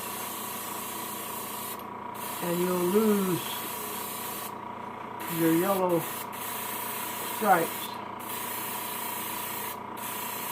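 A paint spray gun sprays black paint onto a fishing lure, giving a close continuous hiss that cuts off in several short gaps while someone talks over it.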